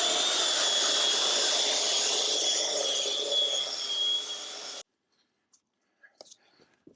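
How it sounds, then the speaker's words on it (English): A drill fitted with a scrub brush whirs steadily against a soaked car seat's upholstery, a loud, continuous buzzing whine. It cuts off abruptly partway through, leaving near silence with a few faint handling sounds. "We're just going to take the drill and just scrub."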